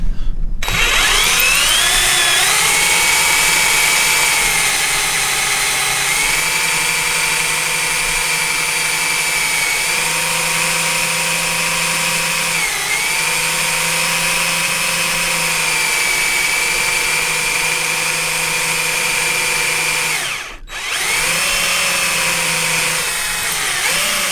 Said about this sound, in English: Bit of one-handed camera work and one-handed drilling.